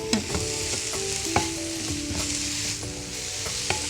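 Ingredients for a thotakura (amaranth leaf) roti fry in a pan with a steady close sizzle, broken by several sharp scrapes and knocks of a stirring utensil.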